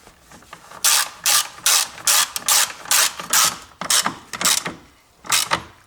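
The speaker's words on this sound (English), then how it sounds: "now I can rotate that my bolt tight" Ratchet wrench tightening the battery hold-down bolt on a Lexus, giving a close series of loud, rapid clicking bursts in an uneven rhythm, with short pauses between strokes and no talking.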